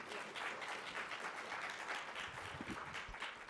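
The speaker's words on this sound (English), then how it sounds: "So if you can please give her a round of applause and welcome Dr." An audience applauds to welcome Dr. Doris Rapp before her talk, giving a dense, steady round of clapping that holds at the same level throughout.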